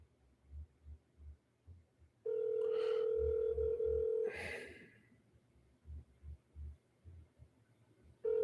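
A telephone ringback tone on an outgoing call to a landlord before it goes to voicemail: one long steady electronic ring burst in the middle, with low throbbing hum and thumps before and after.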